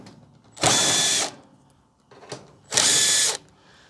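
A power driver fitted with a 1/4 inch hex bit removes screws from an Electrolux/Westinghouse dryer, with two close, loud whirring bursts of under a second each separated by a brief pause.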